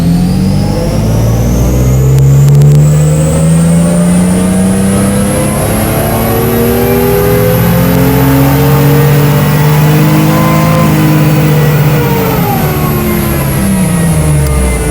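A car engine on a dyno revs hard and steadily under heavy load, its pitch climbing slowly and holding a loud, continuous roar before easing slightly near the end.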